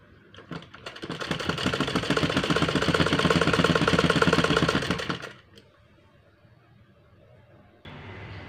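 A sewing machine stitches a strip onto a curtain in one sustained, rapid whirring run of about four seconds, loud and close, then stops, leaving quiet room noise and a faint hum.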